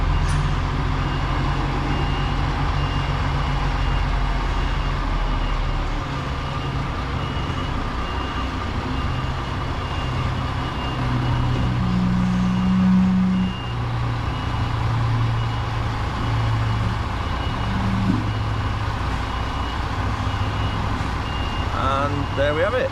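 A delivery truck reverses steadily onto a loading bay, its engine droning continuously with a reversing beeper sounding over the rumble at close range; no one speaks.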